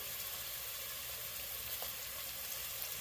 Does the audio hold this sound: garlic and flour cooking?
yes